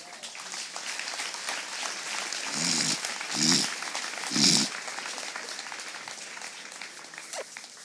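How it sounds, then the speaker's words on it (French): Congregation in a church in Gabon breaking into several short bursts of applause and cheering, with a lively crowd murmuring and calling out between and around them. "On acclame le Seigneur."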